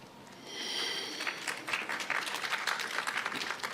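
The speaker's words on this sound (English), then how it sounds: "Oh, clapping for elements now." An audience at a Bashar channeling session breaks into clapping that starts softly, then grows into distinct, fairly quick claps heard at moderate distance, with a brief tonal sound near the start.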